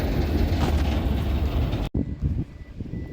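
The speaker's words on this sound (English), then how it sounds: "Got this other train just coming in, blocking my view from the yard" A freight train pulls into a rail yard with a rumbling, rolling rush mixed with wind, then the sound cuts abruptly to quieter, uneven rattling.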